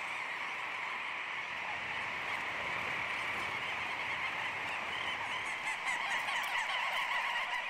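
A large flock of geese circling at their nesting grounds in Greenland, a dense continuous chorus of honking calls carrying steadily throughout, no voices.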